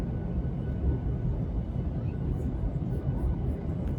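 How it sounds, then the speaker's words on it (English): A passenger plane lands at Hobart Airport, heard as a steady broad cabin roar of engines and airflow with no breaks. "it wasn't too long before we touched down at Hobart Airport"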